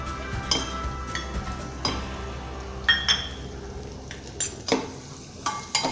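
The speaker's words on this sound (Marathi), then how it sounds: "चांगलं परतून घेऊ." A spiced besan (gram flour) mixture with turmeric and coriander-cumin powder being sautéed in a pan, with a spoon scraping and clinking against the metal at irregular intervals over a low, steady frying sizzle.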